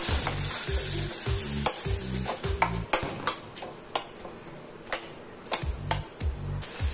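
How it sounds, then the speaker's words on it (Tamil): Chopped large onions and tomatoes sauté in an oil-filled pan, a steady sizzle broken by repeated sharp clicks and scrapes of a spatula against the metal as the mixture is stirred, close and fairly loud with no talking. "இதையும் நல்லா வதக்கி எடுத்துக்கலாம்."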